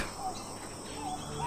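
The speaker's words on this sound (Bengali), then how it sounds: "আর ঝিঝির ডাক" Crickets chirp at night in a village, a steady faint high-pitched trill holding throughout with no other clear sounds.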